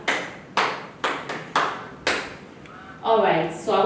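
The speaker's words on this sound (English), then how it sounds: "So let's give you a clap." Young children in a reception phonics class clap together in a handful of separate sharp bursts, roughly every half second, before the clapping gives way to a voice talking.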